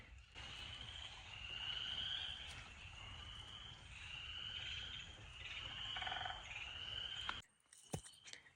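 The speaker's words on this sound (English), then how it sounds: "I can also hear frogs in the creek" Frogs calling in a creek in spring woods form a continuous chorus across a quiet outdoor scene, mixed with insect buzz and faint rustling, ending in a sudden drop near the close.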